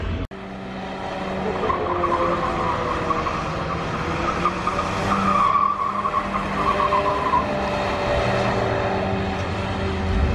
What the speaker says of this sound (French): Le drift en Focus RS, vous allez voir, c'est assez simple de faire du drift avec la Focus RS.